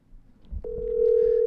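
Outgoing phone call tone while waiting for someone to answer, a single steady sustained tone that starts after a brief click and holds to the end, clear and fairly loud over faint background.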